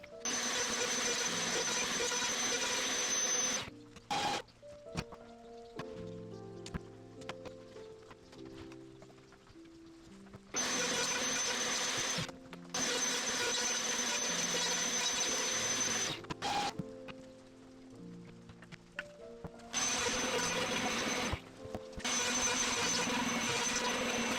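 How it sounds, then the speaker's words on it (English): A 25mm wide, 30mm deep router bit cuts a notch in a wooden Sasarako batten jig, loud high-pitched machining whine in several long passes, broken by quieter stretches where the router spins down and hums alone. "I'm using a 25mm wide, 30mm deep router bit here"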